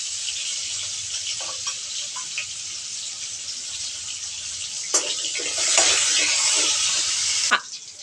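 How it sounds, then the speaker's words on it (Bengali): Cut potato pieces with salt and turmeric frying in oil in a pan, a steady close sizzle throughout that grows louder and busier near the end with a few stirring clinks. "এবার আমি টুকরো করা আলু কিছু লবণ এবং হলুদ দিয়ে ভেজে নেবো"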